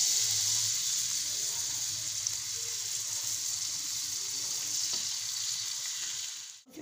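Onions frying in hot oil for a restaurant-style mixed vegetable dish, a loud steady sizzle held close throughout with a faint stir, no talk.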